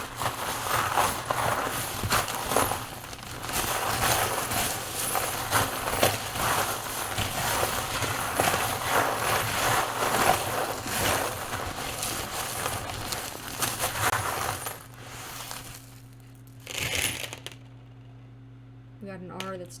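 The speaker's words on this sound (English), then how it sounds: "I will shuffle them with my hand and then pull out some." A bunch of small charms shuffled by hand, giving a dense rattling, clicking clatter that runs steadily and close up, then thins out near the end into a few scattered clinks.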